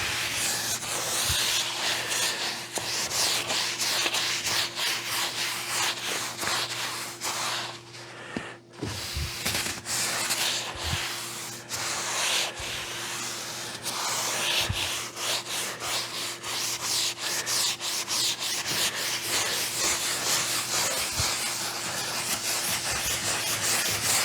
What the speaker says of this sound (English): I'll buff that off.